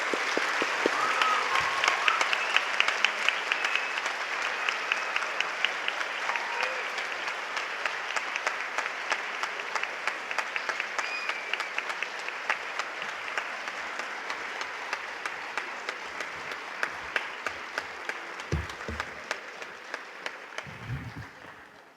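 Sustained audience applause fills a high school National Honor Society induction ceremony, a dense wash of clapping that slowly thins and fades into scattered individual claps near the end, with faint talk underneath.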